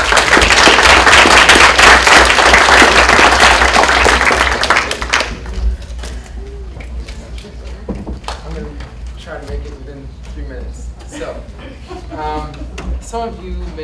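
A school lecture-hall audience applauds Ms. Tocal at a chamber of commerce talk, with dense clapping for about five seconds that then thins to a few scattered claps and quiet room noise.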